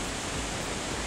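Waterfall at Millaa Millaa Falls in the Atherton Tablelands, a steady broadband roar of falling water with no letup, close and fairly loud.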